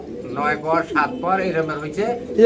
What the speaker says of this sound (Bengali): আমরা এখানে দেখতে পাচ্ছি চার পিস বিউটি কবুতর